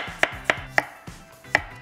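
Knife cutting potatoes into thin slices on a board for a potato pizza, four crisp, evenly spaced chops with a softer fifth, close and clear with no talk.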